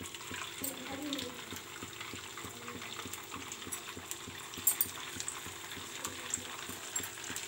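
Food frying in oil over a medium flame for a segdalu snack, giving a steady low sizzle and bubbling with faint scattered clicks of a utensil, fairly quiet throughout.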